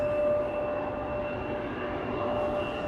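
A KLM Embraer 175 departing Amsterdam Schiphol produces a constant engine roar with a steady high-pitched tonal whine, fairly loud and unbroken.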